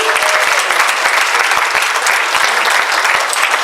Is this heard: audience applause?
yes